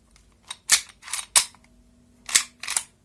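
A toy cap gun is cocked with a couple of sharp clicks, then fires several loud cracking snaps in quick, uneven succession, close by.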